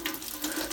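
Hot water pours steadily from a kitchen tap, a close, continuous hiss of running water lasting under a second with no voices over it.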